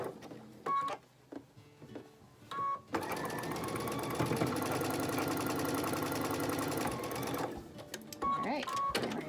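A sewing machine stitches a quilt block in a steady fast run of about five seconds, with short bursts and pauses before and after it, close and fairly quiet, with no talk.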